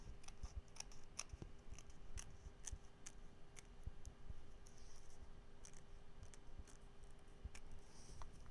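Scissors snip repeatedly at machine-embroidered applique fabric, a steady run of small, crisp, close cuts at a quiet level.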